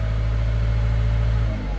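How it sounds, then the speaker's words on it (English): Engine of a Citroën van with an intermittent problem, idling and being lightly revved, a steady low mechanical drone close to the microphone with no knocking evident and no talk. "Now I'm going to lightly rev it."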